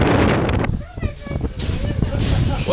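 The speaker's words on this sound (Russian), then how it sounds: "Очень ветрено стало наверху." Strong wind on top of a high lookout tower in Gulbene, Latvia buffets the microphone in loud, gusty rumbles, with a voice talking over it.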